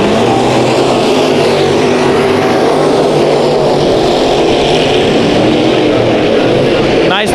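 Modified race cars roaring around Bakersfield Speedway, a loud continuous engine drone from several cars at once with no letup.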